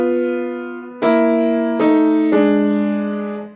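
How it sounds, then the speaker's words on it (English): A tritone, an augmented fourth, sounded as sustained harmonic tones from Prokofiev's piece, with three fresh attacks at about one, two and two and a half seconds, clean and ringing without talk. "So you can hear the dissonance in that sound."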